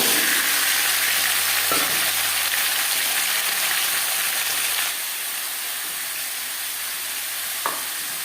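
Half a teaspoon of whole cumin seeds sizzles in hot oil in a pan for a Bengali vegetarian dish, with a steady, close frying hiss that eases slightly midway and is broken by a couple of soft clinks. No one speaks.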